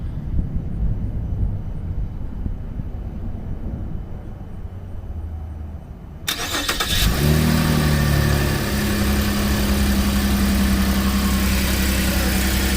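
A 2013 Cadillac CTS 3.0 RWD with a transmission fault and vibrations turns over and settles into a steady, loud idle that continues to the end. A quieter stretch comes before the start.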